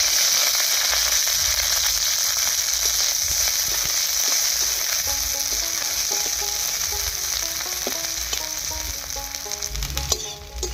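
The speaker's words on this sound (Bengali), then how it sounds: "এই তেলের মধ্যেই এবার দিয়ে দেব পেঁয়াজ কুচি আর কাঁচা লঙ্কা।" Chopped onion and green chilli fry in hot oil for a winter vegetable dish with lentils, giving a steady loud sizzle throughout, with light scraping and clinking of a utensil stirring the pan toward the end.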